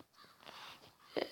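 A crow cawing in the Western video game Six Guns, with a faint, brief caw heard in game audio and a louder, sharper caw near the end, quiet overall.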